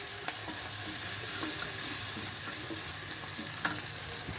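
Onions frying in a pan for sweet and sour turkey balls give a steady, close hiss of sizzling with a few small pops and clinks scattered through it and nobody talking.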